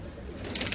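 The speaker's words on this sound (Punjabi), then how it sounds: "ਦੋਸਤੋ ਆਪਣਾ ਕਬੂਤਰ ਇਹ ਦੇਖੇ" Pigeon cooing from a fancier's loft of racing pigeons, a soft low coo rising slightly toward the end of a brief moment, fairly close amid faint background noise.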